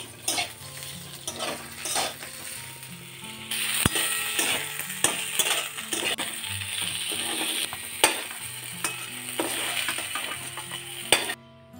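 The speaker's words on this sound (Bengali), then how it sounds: "পটলটা আমি লো ফ্লেমেই ভেজে নেব।" Pointed gourd (potol) frying in oil over a low flame in a covered pan: a steady, soft sizzle broken by clicking, scraping stirs, with a tonal musical bed running underneath.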